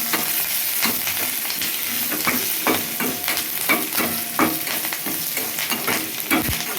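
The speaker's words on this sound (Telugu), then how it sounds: "ఇదిగోండి ఇది పోపు" Green chilies and tempering spices with asafoetida sizzle loudly in hot oil in a pan, a dense crackling fry broken by frequent clicks and scrapes of stirring, with no talk.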